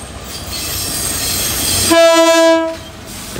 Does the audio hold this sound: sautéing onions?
no